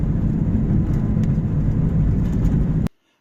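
A car drives along a road through woodland in western Kyiv region. Its engine and tyre rumble is steady and low, heard from close by, and it cuts off abruptly at the end.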